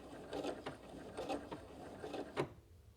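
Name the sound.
sewing machine backstitching a fabric seam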